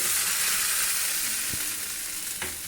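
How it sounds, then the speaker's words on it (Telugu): A hot tempering of cumin and asafoetida is tipped into ground chutney and sizzles loudly with a continuous crackling hiss, broken by a couple of faint clinks. "మనం ఆల్రెడీ మిక్సీ చేసుకున్న చట్నీలోకి ఈ పోపు అంతా కూడా వేసేసుకోవాలి."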